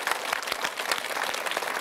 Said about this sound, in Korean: 여러분 제 말이 맞으면 박수 한번 좀 보내주시고.